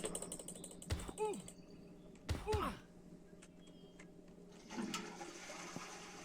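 Toilet flushes in the Internet Cafe Simulator 2 game, a watery rushing swoosh heard twice in quick succession, then a third fainter surge of water near the end, over a steady low hum.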